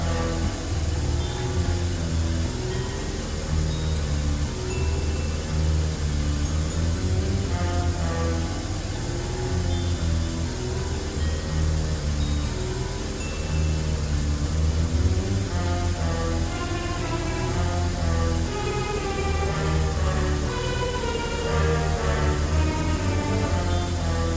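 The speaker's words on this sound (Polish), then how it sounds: "obroty biegu jałowego z ceratekiem są wyższe. Uśredniając odczyt, silnik kręci się szybciej o około 100 obrotów na minutę." A BMW R1150 motorcycle engine idles steadily at its 95-degree operating temperature, a close, even, rhythmic thrumming that holds constant for the whole stretch with no talking.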